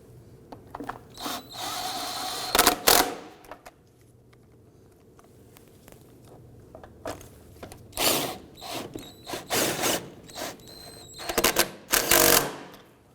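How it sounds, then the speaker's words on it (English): Bolts being tightened on the fuel tank straps of a 2005-2009 Subaru Legacy 2.5L H4, with bursts of quick ratchet clicking and mechanical rattles separated by quieter pauses, close up and with no talking. "Let's go ahead and install our bolt up back in the back. Snug that down."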